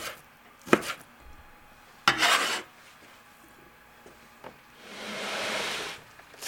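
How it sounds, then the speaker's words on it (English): A knife slices beef cap on a cutting board in short, close strokes: a few sharp cuts and scraping rasps spread out, ending in a longer sustained slicing rub. "trim off the fat and sinew and slice into smaller pieces"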